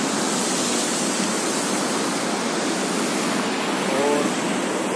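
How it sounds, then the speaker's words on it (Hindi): Sitapath waterfall near Dhar pouring in a constant, dense rush of falling water, loud and close, steady from start to finish with no pauses. "क्या झरना है।"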